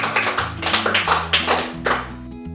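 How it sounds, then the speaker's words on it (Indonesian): A group of seminar participants clapping hands during a training session, a few loose, uneven bursts of claps over a steady low hum. "Coba kita tepuk tangan semuanya dong."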